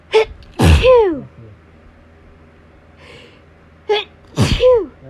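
Allergy sneezes at six in the morning: three loud, sharp bursts, one short, one large at about a second in, and another pair near the end, with a faint breath between them.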